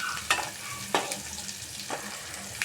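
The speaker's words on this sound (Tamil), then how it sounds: "வெங்காயம் மிளகாயெல்லாம் நல்லா கிளறி விட்டு" Onions and chillies frying in a pan, a soft steady sizzle punctuated by three sharp scraping stirs of a spatula, close and moderately quiet.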